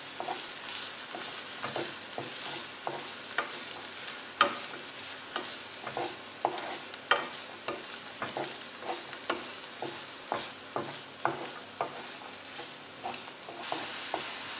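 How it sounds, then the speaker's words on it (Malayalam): Chopped onion and green chilli sauté in a hot pan with a continuous soft sizzle, punctuated by regular scraping stirs of a spatula every second or so, close and alone. "നമുക്കിതിലേക്ക് ഇനി അരിഞ്ഞു വെച്ചിരിക്കുന്ന സവാളയും പച്ചമുളകും ചേർക്കാം. നമുക്കിത് ചെറുതായിട്ടൊന്ന് വഴറ്റാം."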